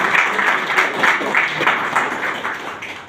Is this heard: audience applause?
yes